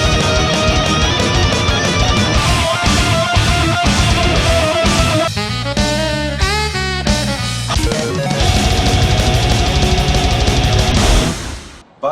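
Full band performance featuring a homemade glove-controlled instrument, loud and dense with steady driving rhythm, a brief breakdown in the middle, then full-band playing again until an abrupt stop near the end.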